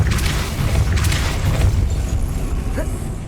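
A deep, rumbling magical blast from the Depulso spell in Hogwarts Legacy, a loud sustained boom with crackling bursts on top, fading slightly toward the end.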